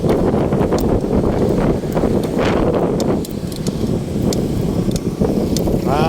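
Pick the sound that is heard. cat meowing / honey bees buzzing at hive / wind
wind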